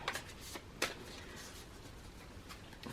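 A deck of tarot cards is shuffled by hand up close, with quick riffling bursts and soft flicks at an uneven rhythm, fairly quiet and with no talking.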